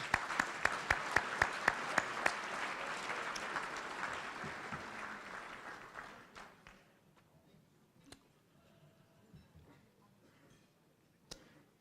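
Applause from a business celebration luncheon audience after a group photo, a few distinct claps leading into a fuller burst that fades out within about six seconds, followed by quiet room murmur and a couple of stray claps.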